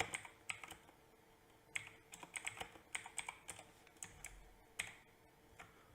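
Keystrokes on a computer keyboard tapped in quick irregular bursts with short pauses, close and fairly quiet, with no talk over them.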